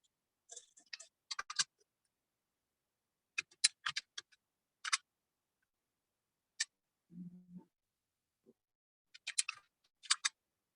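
Scattered bursts of keystrokes tap on a computer keyboard while commands are typed into a terminal, faint and close, in short irregular clusters separated by pauses, with one brief low thump midway.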